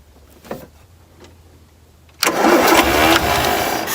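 A Land Rover engine cranks and catches abruptly with a loud rough burst after a couple of faint clicks, then roars unevenly for a moment without settling into a steady run.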